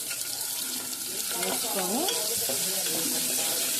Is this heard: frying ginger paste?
yes